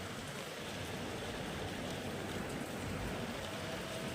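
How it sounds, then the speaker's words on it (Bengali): Steady rain falls during a monsoon-season downpour, a dense, even wash of drops with a watery stream-like hiss that holds constant throughout, fairly close and with no voices. "বৃষ্টি পড়ছে।"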